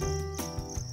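Crickets chirp in a rapid, high-pitched trilling pattern against a steady background tone, clear and close in a cricket-rearing setting.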